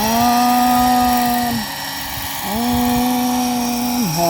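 A radio-controlled size 600 Agusta A109 scale model helicopter flies outdoors with a steady, loud, high-pitched rotor and motor whine. The pitch dips briefly at about the midpoint, then dips again near the end.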